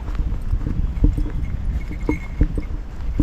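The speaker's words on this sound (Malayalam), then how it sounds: "ഇവിടെ ഒരു കുതിര ഞാൻ കെട്ടിയിട്ടുണ്ട്" A tethered white horse's hooves clip-clop in an uneven rhythm on hard ground, fairly close, over a low outdoor rumble, in Poondi, Tamil Nadu.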